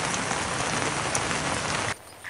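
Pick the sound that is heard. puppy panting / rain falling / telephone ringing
rain falling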